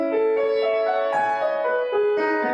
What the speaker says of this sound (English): Now, this piano sequence sounds like this.